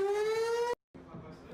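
A rising siren tone wails loudly for under a second, then cuts off abruptly, followed by a person talking.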